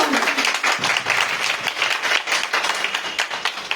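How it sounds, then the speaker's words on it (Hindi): An audience applauds in a steady wash of clapping throughout, filling a hall during a business enterprise welcome event in Varanasi, with no voices over it. "हमारे सारे चेयरमैन के लिए भी अगेन एक जोरदार ताली चाहिए"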